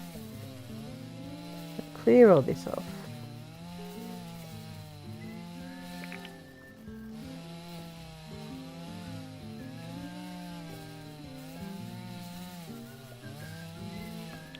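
Chainsaw in the video game Dinkum, cutting with a buzzing, revving drone over background music, with a brief louder burst early on, while a person talks over it.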